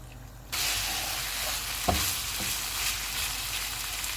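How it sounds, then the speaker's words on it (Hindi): Chicken frying in oil over a full flame for BBQ rice, a dense, loud, continuous sizzle that starts abruptly and holds, with a couple of faint utensil scrapes and no voices. "चूल्हे को फुल कर देते हैं और इसको ऑयल अलग होने तक भूनेंगे।"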